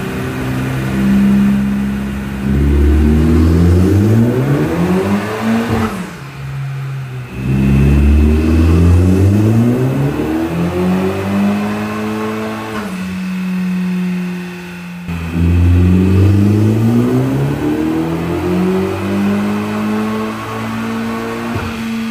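A 2018 Honda Civic Type R on a dyno during tuning makes three long, loud pulls, its engine note climbing steadily through the revs before cutting off, with pauses of lower idle between runs.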